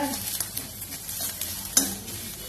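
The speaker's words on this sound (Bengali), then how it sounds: "এটা দেখো আদা ভাজা হয়ে গেছে," Ginger fries in a pan with a soft, continuous sizzle, broken by a few light scrapes and taps of a spoon on the pan, one stronger clack near the end.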